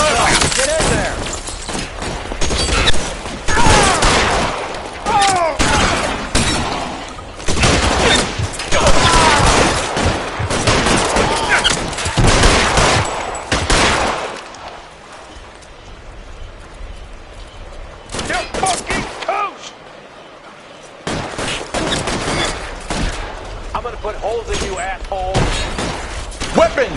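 Gunfire in a shootout in the video game L.A. Noire on PS4, with dense bursts of shots and automatic fire crackling over about fourteen seconds, a near-silent lull, then more scattered shots, mixed with shouting voices throughout.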